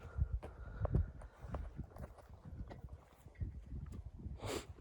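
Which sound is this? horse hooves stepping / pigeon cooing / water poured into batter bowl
horse hooves stepping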